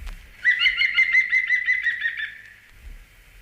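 A green woodpecker's yaffling call recorded in Sussex in April: one clear, laughing series of about a dozen quick, evenly spaced ringing notes, close and loud, with a faint low rumble before and after.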